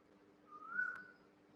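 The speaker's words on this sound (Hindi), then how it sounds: "जो अभी कोयल बोल रही है" A single faint, rising whistled call of an Asian koel carries from a distance, one drawn-out note over a low steady hum from a fan indoors.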